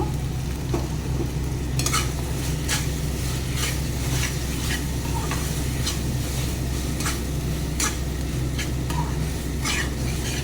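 Turmeric and Kashmiri chili powder masala sautéing in a pan for chicken kosha, with steady close sizzling and repeated scraping stirs of a spatula running throughout, no voices.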